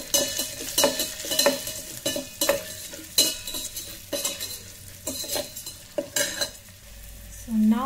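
Potatoes being mixed with red chili powder in an electric kettle, a steady run of rhythmic scraping and clinking strokes from a spoon against the pot over a light sizzle, no talking.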